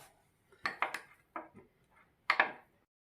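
A spoon clinks against a bowl while cornflour is stirred in, giving a few quiet, scattered taps and scrapes in small clusters.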